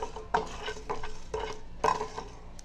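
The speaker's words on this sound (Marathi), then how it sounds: "मसाला भाजण्यासाठी कढई गरम करायला ठेवलेली आहे, त्यामध्ये आधी आपण 1 टेबलस्पून धने भाजून घेऊया" Coriander seeds dry roasting in a hot kadhai, stirred with a utensil that scrapes and clinks against the metal in a few distinct strokes over a soft, steady background.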